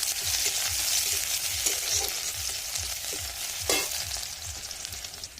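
Chopped onions fry in oil with cumin seeds, a steady close sizzle and crackle while a spatula stirs in regular scraping strokes, with no one talking.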